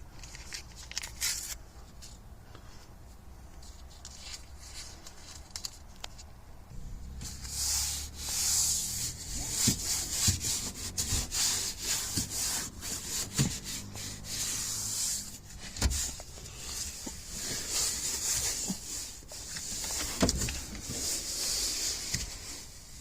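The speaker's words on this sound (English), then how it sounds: "So we'll wipe this down and go from there." Cloth rubbing and wiping down a surface during cleanup, a soft, steady swishing rasp close by that grows busier partway through, with occasional light knocks and no talk.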